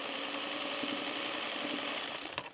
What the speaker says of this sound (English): I'm going to hold it with my finger as I'm sewing